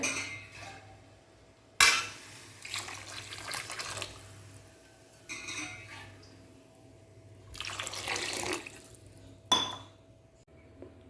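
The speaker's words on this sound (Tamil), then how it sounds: "உங்களுக்கு தேவையான அளவு தண்ணி ஊற்றிக்கலாம்" Water splashes and pours into a metal cooking pot in several bursts while making kuruma curry, with clinks of cookware and a low steady hum underneath.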